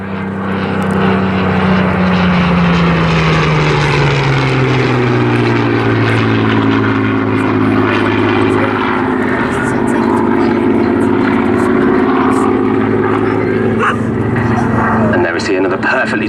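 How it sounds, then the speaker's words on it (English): A Hawker Hurricane fighter and a Douglas Dakota transport fly an airshow display, their piston engines droning loud and steady with a slowly shifting pitch as they pass. An announcer talks over the engines. "He's going to bring the aircraft up, victory roll the Hurricane as the Dakota passes below her."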